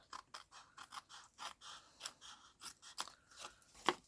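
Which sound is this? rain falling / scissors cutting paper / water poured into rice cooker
scissors cutting paper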